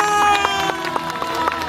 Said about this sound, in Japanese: お客様拍手。